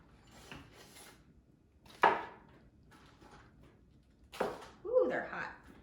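Hot chocolate pot de crème cups are set down on a wooden cutting board, making a couple of short, hollow knocks between stretches of a person talking.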